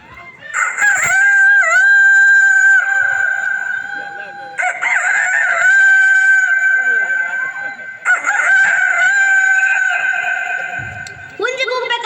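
A voice imitates a rooster crowing during a comedy performance at a village fair, three long, loud crows in a row with a short pause between each.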